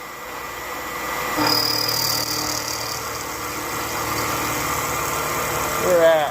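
A milling machine drives a small 3/8-inch carbide end mill through a cut, a steady mechanical drone with a whining tone, loudening partway in and running on under a brief spoken remark.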